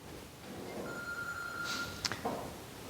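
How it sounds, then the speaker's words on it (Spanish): A telephone rings briefly in a room during a Bible seminar, a short electronic tone sequence heard once at moderate level over background room noise, with no talk over it. "¿Teléfono?"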